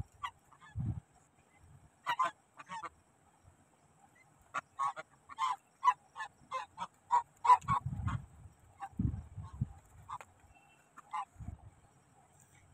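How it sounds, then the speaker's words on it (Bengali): Two ducks at a cottage near Jaldapara honk and quack in bursts of repeated nasal calls, fairly close and loud against otherwise quiet surroundings, with no talking. "দুটি হাঁসও এখানে রয়েছে, তারা নিজেদের মতো খেলা করে চলেছে"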